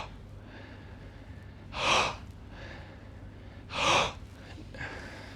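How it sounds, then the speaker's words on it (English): Two deep breaths made during a breathing exercise, each one a slow, loud whooshing breath, are separated by quieter breathing over a low room hum. No one speaks. "Now I want you to do like a inhale with your nose, long, slow exhale out through your mouth."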